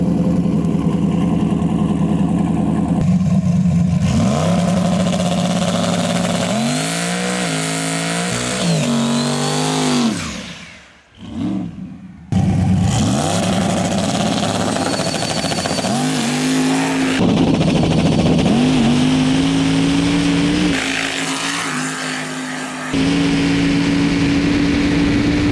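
A turbocharged Chevy Nova's engine revs and accelerates loudly and close, with rising and falling surges of pitch, a brief sudden drop to near silence midway, then more sustained pulls.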